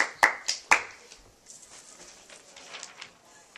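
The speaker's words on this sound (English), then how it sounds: "Give her a round of applause." Three sharp, close claps ring out at the start, followed by a quieter patter of scattered clapping from a small audience that continues faintly to the end.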